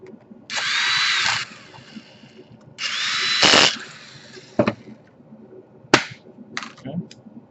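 Power screwdriver driving a tiny screw into a Toshiba Satellite L655 laptop during repair, heard as two sustained whirring bursts close by, followed by a few sharp clicks and taps.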